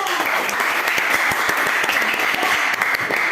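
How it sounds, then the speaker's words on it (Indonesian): A school class applauds in a classroom, many hands clapping at once with some sharp individual claps standing out, steady and close. "Beri tepuk tangan."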